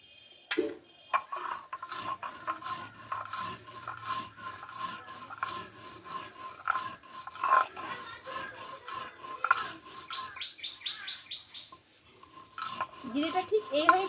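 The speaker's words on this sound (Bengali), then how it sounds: "এইটা আমি শিলনোড়ে একটু গুঁড়ো করে নেব" Roasted cumin, sugar and salt are ground on a shil-nora stone, the grinding stone rubbing back and forth in steady, quiet gritty strokes, with a few light clinks toward the end.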